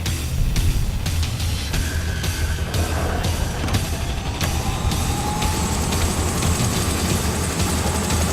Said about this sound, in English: what we had going on there is a helicopter